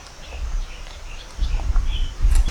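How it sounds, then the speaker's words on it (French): Birds chirp and call in scattered, light bursts in a Vietnamese jungle. A low, rushing rumble from a nearby waterfall swells and fades in waves beneath them. "on entend les oiseaux qui chantent et on entend aussi la cascade"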